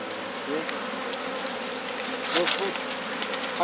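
Honeybees buzzing steadily around a hive in the Jirisan mountains, a dense continuous drone with a brief louder swell as a bee passes close; no talk.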